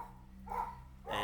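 A dog barks a couple of times somewhere off in the distance, faint and muffled behind a steady low hum.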